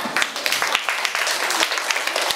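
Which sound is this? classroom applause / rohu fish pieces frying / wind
classroom applause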